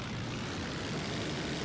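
Gyrocopter engine in Arma II, a continuous droning propeller roar that holds steady and fairly close without breaks, alone with no voices.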